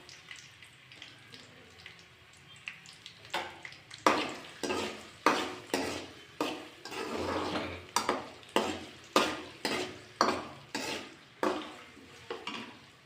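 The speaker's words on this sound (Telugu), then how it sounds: "చెక్క, లవంగాలు, వెల్లుల్లి రెబ్బలు 2 వేసి వేయించుకోవాలి. పచ్చిమిర్చి 2 వేసి వేయించుకోవాలి." Cinnamon, cloves, garlic cloves and green chillies frying in oil in a pan, with quiet sizzling at first and then a run of regular, sharp spoon scrapes and knocks against the pan, close and fairly loud, with no talking.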